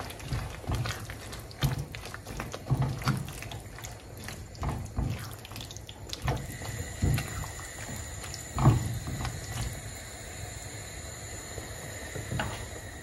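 Zucchini being stirred into a corned beef and cabbage stew gives wet, sloshing clacks and scrapes of a spoon in the pot, irregular and close, with no talking.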